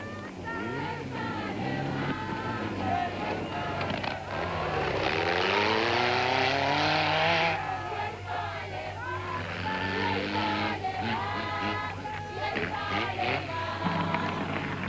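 Rally cars accelerating hard on long stages of the 1991 Toyota 1000 rally, engines rising and falling in pitch as they pass, with a voice talking over the mechanical roar.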